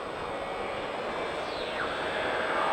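A Yamaha R1 motorcycle accelerates hard on a track, its engine a loud, steady high-pitched roar with the pitch sweeping through a gear change, heard continuously and without any voice over it.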